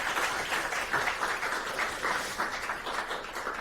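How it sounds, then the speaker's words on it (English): Audience applause at a technical talk on running Debian on a smartphone, a steady patter of many hands clapping together, moderately distant and fairly quiet, sustained evenly throughout. "please give a warm round of applause for Evangelos."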